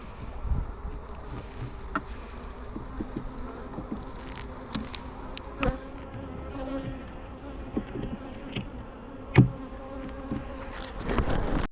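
Honey bees buzz steadily around an open hive on a farm during a routine inspection, a dense close drone with individual bees flying past the microphone now and then.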